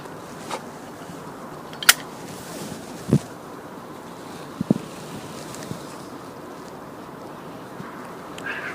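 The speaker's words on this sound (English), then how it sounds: "Pretty windy today" Wind gusting outdoors on a sunny day, a low rumbling buffet across the microphone with a few sharp knocks and thumps scattered through it, no voices.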